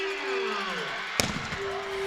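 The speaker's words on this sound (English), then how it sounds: "Forgot about that cannon again." Cannon fired after a touchdown at a high school football game: a single sharp, loud boom partway through, with a few quick echoing thuds after it, over an ongoing steady tone and quiet crowd ambience.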